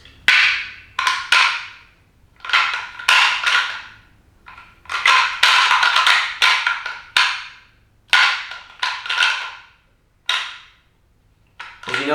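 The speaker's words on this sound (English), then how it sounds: "I'll hit the horns together a little bit harder." Deer antlers rattled together to call whitetails, in sharp clattering bursts of clicking and grinding that last a second or two each and are separated by short pauses, close and fairly loud with no talking.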